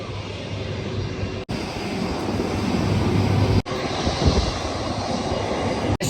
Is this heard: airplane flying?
yes